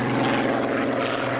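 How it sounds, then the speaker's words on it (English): Supercharged 27-litre Rolls-Royce Merlin V12 aircraft engine of a Spitfire drones loud and close, a dense, steady throbbing roar with no voices. "What made it such a sensation was its fabulous engine, 27 litres of supercharged Rolls-Royce V12,"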